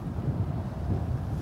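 Wind gusts buffet the microphone at a fishing lake during a rod-fishing session, a steady low rumbling roar throughout with no voices.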